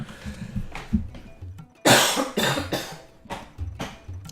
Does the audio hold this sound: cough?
yes